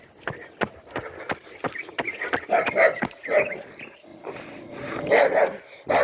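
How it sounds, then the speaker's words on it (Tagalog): A tied-up dog barks repeatedly at a moderate distance, mixed with rhythmic jogging footsteps and an insect chirp in the background. "Nakatali. Ay aso."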